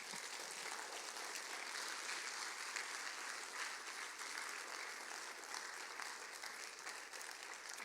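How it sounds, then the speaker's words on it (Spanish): A church congregation applauds the Lord during a worship service, a steady, dense wash of many hands clapping that holds at an even level from start to finish, with no talk over it. "Denle un aplauso al Señor,"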